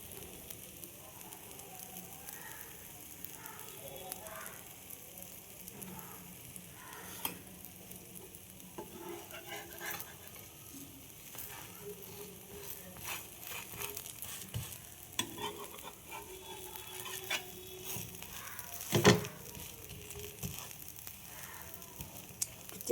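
Pancake batter frying in a pan gives a soft, steady sizzle with occasional light scrapes and taps of a utensil, faint and close throughout.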